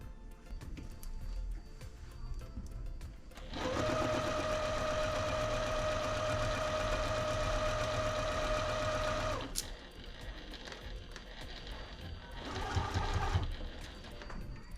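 A sewing machine running a quarter-inch seam on quilt pieces hums steadily for about six seconds, close and loud, then stops, followed by quieter handling noises and a short second burst of stitching.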